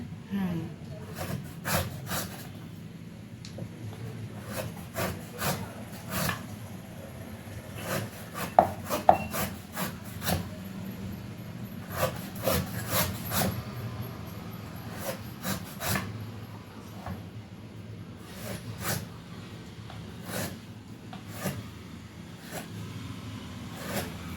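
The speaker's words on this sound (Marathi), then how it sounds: "डायरेक्ट वेळीवरती कापून घेते मम्मी साईडने म्हणजे साल काढून घेते त्यांची" Jackfruit being cut and its skin pared away on a traditional floor-mounted blade, giving repeated short scraping and rubbing strokes with a few sharper knocks, close and fairly quiet.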